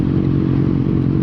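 A motorcycle rumbles past close by in a brief, loud, steady low engine drone without obvious revving.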